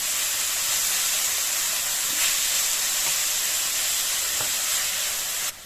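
Onions sauté in hot oil for chicken pasanda, a steady, even hiss of frying that continues without a break and is softly audible throughout.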